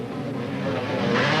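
Motorbikes roar loudly at a motocross race, engines revving with a rising whine as they pass close by in a brief burst.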